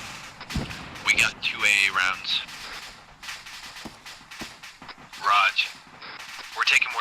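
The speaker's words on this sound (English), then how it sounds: "shots from the east" Gunshots ring out in short sharp bursts during a squad training exercise in a town, some nearby and some farther off, with radio-style voices talking between and over the shots.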